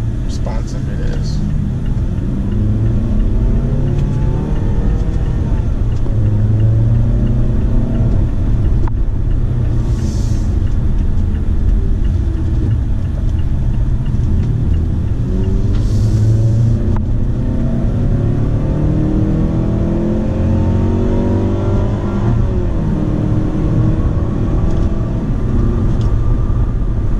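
A 2018 Mazda CX-5 accelerates in manual sport mode, the engine droning loudly inside the cabin and rising in pitch through repeated gear changes. A voice speaks over it at times.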